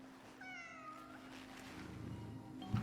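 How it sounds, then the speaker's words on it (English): A single soft, high meow from a cat in the video game Cronos: The New Dawn, fairly faint over a quiet hum and ambient background. "This is no place for a cat"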